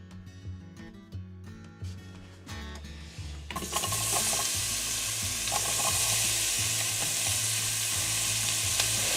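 Onions caramelizing in a frying pan, a sizzle that swells suddenly partway through and then holds as a dense, steady hiss, with soft background music underneath.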